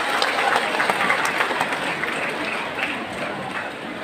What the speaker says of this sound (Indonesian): Boleh tepuk tangan yang meriah untuk kita semua